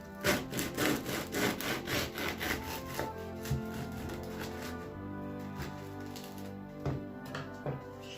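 A knife saws through a crusty loaf of homemade no-knead bread in quick, rhythmic rasping strokes, loudest at first, then slower, softer cuts close by.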